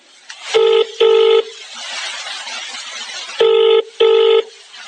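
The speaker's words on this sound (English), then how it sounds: "he calls Margaret again, as he still can't find the house" Four electronic keypad tones in two pairs, each a steady beep, with a soft hiss of line noise filling the gap between them.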